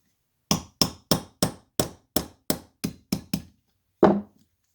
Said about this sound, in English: Next, we're going to drive out the hammer pin